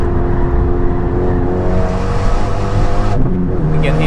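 A race car engine at the Nürburgring runs loud and steady throughout with sustained harmonic drone, a shift audible near the three-second mark as pitch drops and climbs again; no talk over it.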